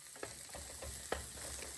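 Garlic and onion sautéing in oil for a pork stew, a steady soft sizzle with a few scraping stirs of a utensil in the pan, close and continuous without talk.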